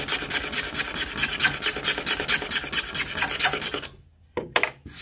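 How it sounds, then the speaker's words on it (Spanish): A plastic kayak hull being scraped flat by hand to strip stains and scuffs, a steady close rasping rub in repeated strokes that stops near the end, followed by a couple of brief scrapes. "Lo vamos raspando flat."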